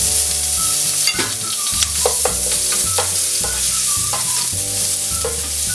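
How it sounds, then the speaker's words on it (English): Ginger garlic paste frying in sunflower oil for Indian-style chicken noodles, a loud, continuous sizzle with repeated stirring scrapes and spoon knocks against the pan. "To the oil, firstly I will add ginger garlic paste of around"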